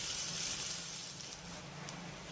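Ginger and green chilli fry gently with five-spice in a pan over a low flame, giving a steady, soft, continuous sizzle with faint crackles throughout, no voices.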